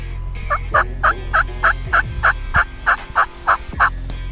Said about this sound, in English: Gordon, I see turkeys coming.